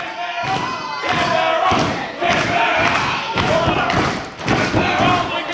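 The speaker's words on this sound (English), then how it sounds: "Double clothesline sends both men down, tumbling to the mat." Professional wrestlers are knocked flat to the mat by a double clothesline at a Cleveland Assembly Hall event, a series of heavy thuds and slams roughly once a second over a roaring crowd.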